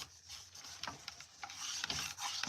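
Scraper dragging heat-softened finish off old thrifted wooden furniture, a run of short rasping strokes close to the mic with faint room noise between them.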